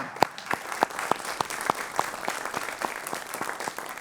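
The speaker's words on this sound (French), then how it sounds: "On peut l'applaudir, hein" Audience in a small auditorium applauds Paul Rich, with loose, distinct handclaps standing out over a softer spread of clapping for about four seconds.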